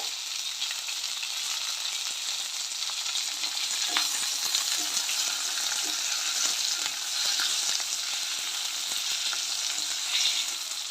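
Onion, dried red chilies and curry leaves fry in hot oil, giving a continuous bright sizzle with faint stirring clicks throughout and no talking.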